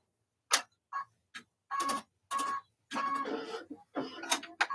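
Embroidery machine sewing a satin stitch on a double-sided charm, giving bursts of rapid mechanical clicking and whirring separated by short pauses, close and fairly quiet with no talk.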